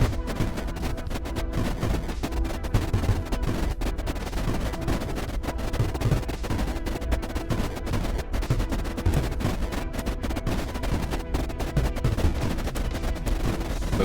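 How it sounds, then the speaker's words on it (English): Cannons fire nonstop in the strategy game Creeper World IX, a dense crackling barrage of rapid shots layered over a low rumble with no pauses. "Cryons and cannons are holding steady."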